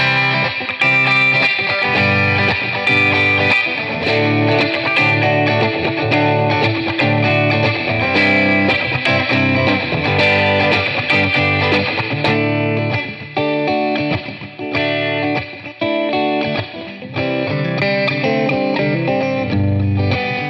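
A distorted INDIO Retro Classic electric guitar with a basswood body plays continuously with strummed chords and riffs, loud and close, with effects and no voices.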